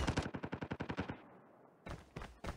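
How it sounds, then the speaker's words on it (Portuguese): Rapid automatic gunfire from Call of Duty Mobile rattles off in a quick burst of about a dozen shots, then a brief lull before a few more sharp shots close by. "Você começa a atirar no cara"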